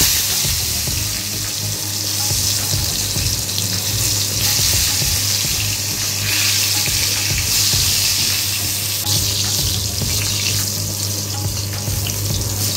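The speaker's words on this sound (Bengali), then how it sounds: "এদিকে বেগুন ভাজা হচ্ছে" Eggplant slices fry in a pan with a loud, steady sizzle and crackle, along with stirring and a low constant hum in the background.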